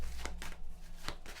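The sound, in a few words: tarot cards being shuffled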